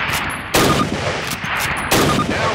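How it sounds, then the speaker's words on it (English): Springfield rifle shots in Call of Duty on PC, two loud, sharp reports about a second and a half apart, each followed by a short rumbling echo. "Grab up a Springfield rifle from the table, switching it for your carbine. Turn to the left, move to the fence, and fire 2 rounds at your target."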